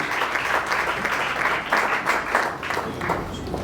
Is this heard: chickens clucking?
no